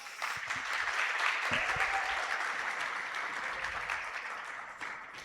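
Church congregation applauding during a celebration worship service, a sustained wash of clapping heard from within the hall, with a brief voice or two mixed in early before the applause gradually thins.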